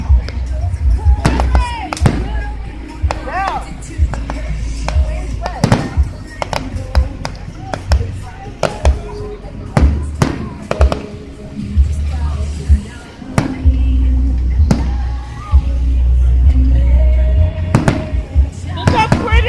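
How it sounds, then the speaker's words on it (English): Fireworks show with repeated sharp bangs and booming bursts at irregular intervals, some loud and close, over a constant low rumble, with a person talking now and then. "I'm at a fireworks show here."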